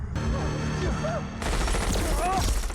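Machine gun fire in a Stranger Things episode: dense, continuous bursts of automatic gunfire over a dramatic music score, loud and close throughout, swelling in the second half.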